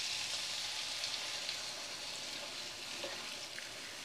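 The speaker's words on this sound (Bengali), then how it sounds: "এবার আমি একটু গরম জল দেব" Hot water going into frying potato and soybean curry, producing a continuous close hiss and sizzle with a faint bubbling texture, steady and unbroken.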